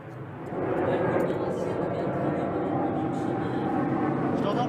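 Steady broadband roar of an airplane passing overhead, loud and continuous after a brief rise at the start, covering everything else.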